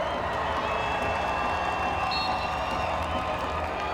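Crowd at a roller derby bout cheering, clapping and whooping: a dense, continuous roar of many voices and hands, steady in level throughout with occasional higher shouts poking through.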